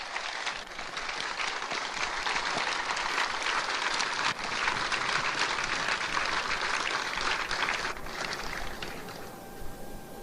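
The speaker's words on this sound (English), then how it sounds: "So a round of applause, please." Sustained crowd applause honoring Marines standing in formation at a Marine Corps Base Hawaii change of command ceremony, a dense, steady wash of clapping from a large outdoor audience that carries on for the whole stretch before thinning slightly at the end.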